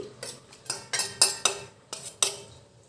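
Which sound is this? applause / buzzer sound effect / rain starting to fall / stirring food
stirring food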